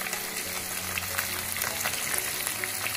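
Pabda fish frying in hot oil, a steady close crackling sizzle with scattered pops and spits, no speech.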